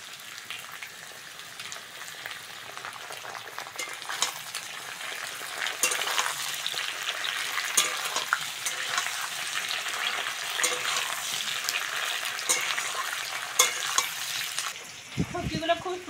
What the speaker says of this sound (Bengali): সবজিগুলো খুব সুন্দর করে ভেজে নিয়েছি বন্ধুরা, সবজি থেকে তেল ছেড়ে দিয়েছে।